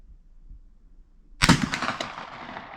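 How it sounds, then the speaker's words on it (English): A black powder rifle hang fire: a faint snap of the percussion cap, then the delayed powder charge goes off in one loud, close boom that rings and decays outdoors. "You heard the cap go off, then you heard the powder charge go off."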